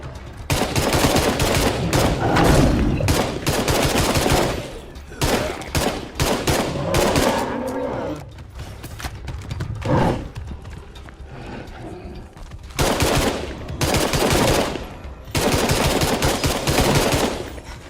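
Gunfire from the video game State of Decay 2 comes in dense bursts of rapid shots with short gaps between them. The bursts are loud and sit over a busy noisy background.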